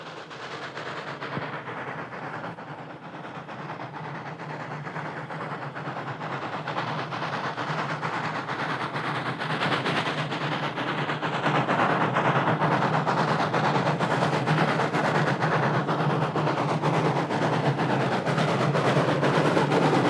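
Wood-burning steam locomotive number 226 in Paraguay chuffs steadily as it hauls a two-vehicle train uphill toward the Parana Bridge, a dense rumbling roar that grows louder and closer over time.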